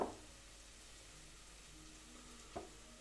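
Onions with garlic sizzle softly in a pan, a faint steady frying hiss with a brief louder clatter near the start and one near the end.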